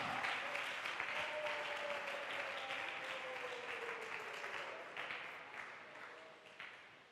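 A church congregation applauds at an evening service, a steady wash of clapping that gradually fades, with a faint sustained tone running beneath it.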